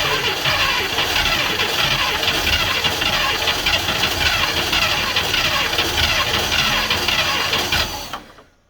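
A 1971 International Travelall 1210 firing up after sitting for 22 years, a loud, steady, ragged engine roar running close for several seconds before cutting off abruptly at the end.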